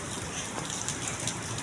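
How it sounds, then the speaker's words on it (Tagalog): Steady rain falls on a surface outdoors in Pasay, a constant broadband patter with scattered louder drops, moderately near and alone without voices. "Maulan kasi."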